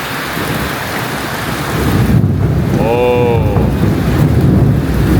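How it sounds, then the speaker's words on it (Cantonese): Thunder rolls over heavy rain at Poring hot springs in Sabah, a loud broad roar of downpour and wind that swells midway, with a brief bird-like chirp rising above it. "即將有行雷嘅，6米行雷聲俾大家聽下先。"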